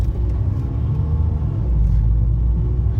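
A car pulls away on a driving test course in Kağıthane with a deep, close engine rumble that builds slightly as it accelerates, with no talking.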